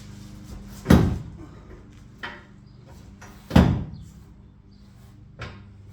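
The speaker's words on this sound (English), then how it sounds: "now I'm going to lower the tailgate slowly" A pickup truck tailgate being lowered and shut during a rear bumper install, two heavy clunks a few seconds apart with a couple of lighter knocks between, close by and with no talking.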